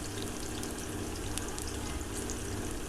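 Onions browned red sizzle steadily in a pan as ground spices (coriander, cumin, turmeric and chili powder) are added, making a dense, continuous frying hiss that stays even and close throughout.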